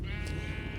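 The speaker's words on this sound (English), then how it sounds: "And this is my sheep farm." A sheep on a Minecraft sheep farm bleats once in a short, steady call, heard alone over a soft game background.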